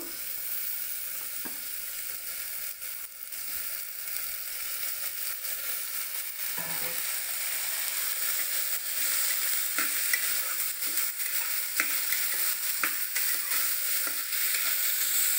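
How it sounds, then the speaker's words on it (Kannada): Bitter gourd sautés in a little oil with browned onions, giving a steady sizzling hiss with scattered spoon scrapes and clicks that grows slightly louder over time, with no speech. "ಈಗ ಹಾಗಲಕಾಯಿ ಇದನ್ನು ಒಂಚೂರು ಎಣ್ಣೆಯಲ್ಲಿ ಬಾಡಿಸ್ಕೋಬೇಕು"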